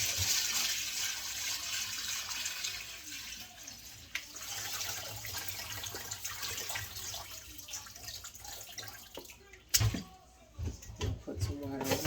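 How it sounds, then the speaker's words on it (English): Tap water runs steadily into a wide-holed strainer of rice being rinsed for Jamaican peas and rice, a continuous close splashing hiss with a brief louder gush near the end. "Put some water in here, some more water in here."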